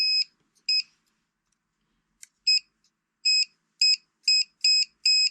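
An Owon CM2100B clamp meter in continuity mode gives short, sharp high beeps, some single and some in quick bursts, with silence between them.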